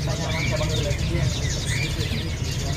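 Small caged birds chirp and tweet in a busy bird shop, the calls overlapping continuously beneath a steady background hum and murmured voices.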